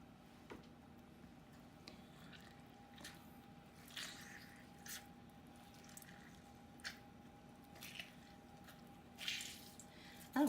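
Lemon pulp squeezed by hand into lemon loaf cake batter, giving faint, scattered wet squishes and drips spaced a second or so apart in a quiet room.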